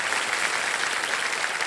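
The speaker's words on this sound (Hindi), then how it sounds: "इनका जोरदार तालियों के साथ हम अभिनंदन करना चाह रहे हैं" A television quiz show studio audience applauding, a dense, even wash of many hands clapping throughout, loud and steady with no voices on top.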